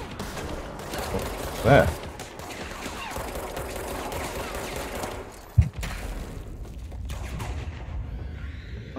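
Scattered gunfire in the video game Control, with a few sharp shots standing out against a busy background of game noise while a person talks over it.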